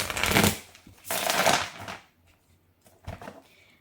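A deck of tarot cards being riffled and shuffled up close: two long, crisp flurries of rapid fluttering, then a few softer taps and riffles in a quiet room, with no talking.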